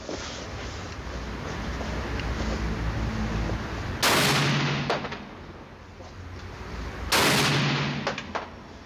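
Two loud, sharp gunshots at a shooting range, about three seconds apart, crack out over steady outdoor background noise, each followed by a brief echoing tail.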